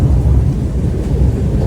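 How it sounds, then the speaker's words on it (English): Deep rolling thunder rumbles steadily through a rainstorm, loud and continuous with a heavy low-end roar and rain hiss behind it, heard from under a porch. "I love the sound of thunder."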